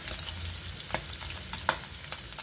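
Garlic and onion sizzle in hot oil with a dense crackling hiss, broken by a few sharp spatters and stirring clicks over a short stretch, and no one talks.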